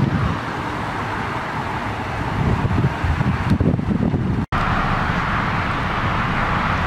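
Steady wind rumble buffets the microphone of a 4x4 vehicle driving off-road, a constant broadband roar with a brief dropout midway and no clear talk.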